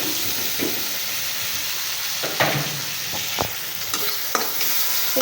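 Spices and loitta dried fish being stir-fried in a pan, continuous sizzling broken by several sharp scrapes and clacks of a spatula against the metal, with no voices.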